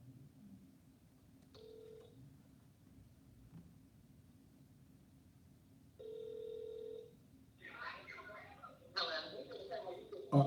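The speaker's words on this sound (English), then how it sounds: "Let me see if I can get her on the phone." A telephone rings out while a call is being placed, giving two separate electronic ring bursts with quiet pauses between them, followed by a faint line connection and background noise.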